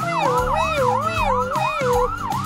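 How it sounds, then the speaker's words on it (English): A fire truck siren in a Roblox video game wails, sweeping rapidly up and down, loud and close, with a second siren tone and engine rumble beneath. "It sounds like a fire truck siren. It is a fire truck siren."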